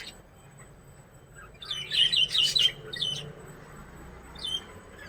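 Several house sparrows chirp in quick bursts, a cluster of bright tweets in the middle and another short call near the end, against quiet background.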